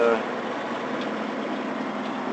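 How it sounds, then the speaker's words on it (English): A sugar beet topper cuts the green tops off beets during a Minnesota harvest, a steady engine drone with a broad machinery roar that holds constant and close throughout. "this guy right here is topping. So what this thing does is, you can see it's cutting all the green parts off"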